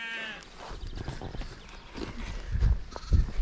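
Baby lambs bleating in Peak District countryside, a few thin calls with some heavier thumps and rustling nearby, heard outdoors without talk.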